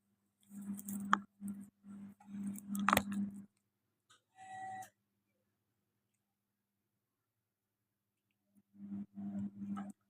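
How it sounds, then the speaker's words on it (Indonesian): A mixture with chocolate is stirred evenly during simple home cooking, a soft close clatter of a utensil scraping and tapping against the pan in short bursts, with a long quiet gap before it starts up again. "Jadi kita aduk rata."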